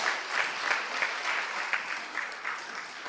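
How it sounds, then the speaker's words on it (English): An audience at a university research conference applauds deans and directors, a dense sustained clapping that stays fairly loud throughout with some faint voices mixed in. "Please clap for the deans and directors."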